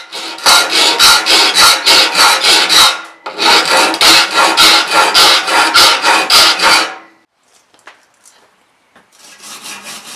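A metal file sharpens the teeth of a bandsaw blade, loud close rasping in rapid regular back-and-forth strokes, two long runs of strokes, a quiet pause with small clicks, then filing resumes.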